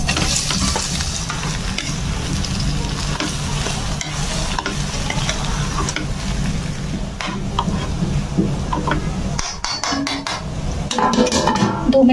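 Potatoes fry in a pan with spiced masala, producing a loud, steady sizzle under continuous stirring and spoon scraping, with a few metallic clinks near the end.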